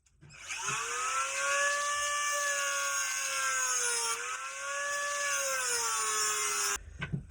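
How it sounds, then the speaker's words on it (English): A Dremel rotary tool grinds the head off a pop rivet, giving a steady high-pitched whine that dips slightly under load a couple of times before cutting off. "All I'm going to do is use a Dremel and I'm going to shave the top off of this rivet"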